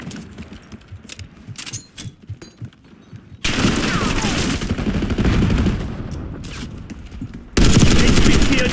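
Call of Duty: Black Ops 6 firefight: sporadic cracking shots at first, then dense, sustained bursts of automatic gunfire that surge loudly twice, with explosions and game chatter mixed beneath.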